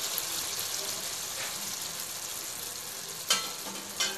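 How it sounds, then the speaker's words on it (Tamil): Chettinad chicken gravy being stirred in a pan with a steady moist sizzle and two sharp utensil clinks against the pan near the end. "கிளறிக்கோங்க."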